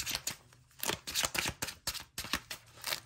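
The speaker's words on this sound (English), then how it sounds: "I'm trying not to shuffle near the mic because I know it's loud" Cards being shuffled close to the microphone, a rapid series of crisp riffling bursts repeating over a few seconds.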